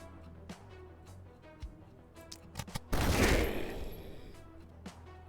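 A grapeshot blast in The Last Spell fires as one loud, broad burst of scattered cannon-like shot that decays over a couple of seconds, preceded by several sharp, clicky game effects and a steady low background.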